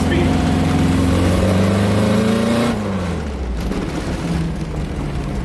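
A 1968 Baja Bug's engine drones loud and close while driving, with low rising and falling harmonics that shift in pitch partway through as the car changes speed.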